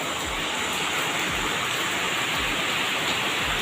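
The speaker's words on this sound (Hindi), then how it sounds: "बहुत ज़्यादा पानी गिरा था" Heavy rain pours down in a continuous, loud, dense hiss that fills the whole stretch without a break.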